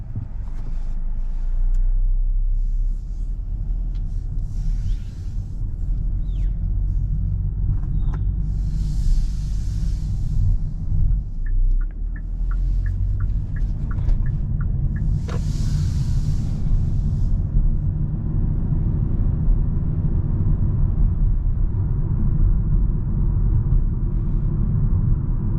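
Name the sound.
driving a 2023 Hyundai Kona SEL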